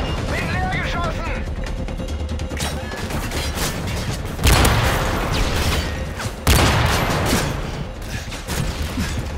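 Gunfire in Call of Duty: Modern Warfare 3 Special Ops: dense, loud bursts of shots and two heavy blasts crack through a constant battle clamor, with people talking over it.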